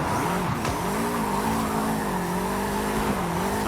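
A 1973 Volkswagen Thing in a driving game, its engine droning steadily near and loud as tires squeal through a continuous drift with a wavering pitch.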